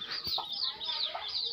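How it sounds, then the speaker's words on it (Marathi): A pet rooster clucks and crows in a repeated, wavering high call, close and clear, with a few short rustles and knocks underneath. "आणि हा आहे आमचा कोंबडा बघा"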